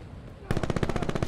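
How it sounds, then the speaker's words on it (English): Rapid automatic fire from the M8A1 Swordfish rifle in Call of Duty: Black Ops 2 starts abruptly and runs as a loud, steady string of about a dozen evenly spaced shots after a short stretch of quiet game noise. "It is definitely up there for fast fire rate versus assault rifle."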